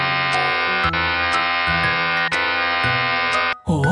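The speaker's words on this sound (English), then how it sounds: "Let's help him shave it off." A loud, continuous electric shaver buzz from a kids' preschool video game runs almost unbroken with slight pitch shifts, then cuts off near the end into a brief cartoonish sound.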